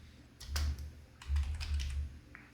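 Someone types on a computer keyboard, producing quick bursts of crisp, close keystroke clicks with short gaps between them.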